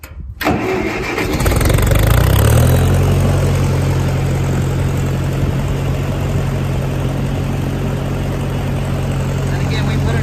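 A 1956 Massey Ferguson MH50 tractor engine catches and settles into a steady, even idle, its low throbbing hum running loud and close for the rest of the clip.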